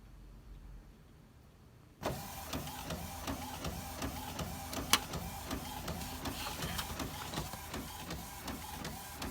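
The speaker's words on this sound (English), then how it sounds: "And then I'm going to print now." A printer runs steadily with rhythmic, repeating mechanical passes as it prints a Kit Kat purse craft template. It starts abruptly after a quiet moment and stays close and clear, with no talking.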